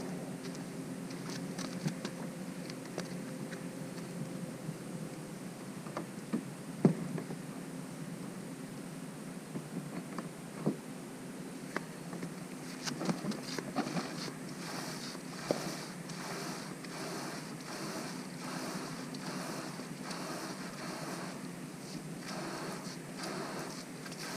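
Water sloshing and patterning inside a fishing kayak's hull as the boat is tipped and maneuvered on shore at Millerton Lake, a continuous faint wash with scattered soft knocks and splashes throughout, no talking.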